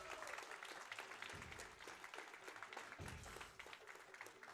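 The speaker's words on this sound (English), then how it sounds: "Can we get some cheering for Senpai?" Audience cheering and applause during a speedrun marathon event, a dense, steady crowd roar that fills the whole stretch alongside some speech.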